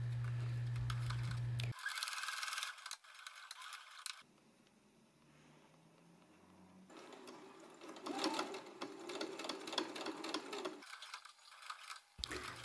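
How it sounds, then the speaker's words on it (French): Domestic sewing machine running a topstitch about 3 mm from the edge of a seam on a jacket, with a lengthened stitch, whirring close in several steady runs separated by pauses. "On peut maintenir cette couture avec une surpiqûre à 3 mm du bord."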